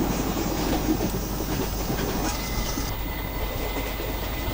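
An Indian Railways Rajkot–Secunderabad Superfast Express hauled by twin Alco diesel locomotives with ICF coaches runs in Train Simulator, a loud steady rumbling drone with faint rail clatter throughout.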